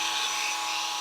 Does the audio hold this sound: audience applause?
no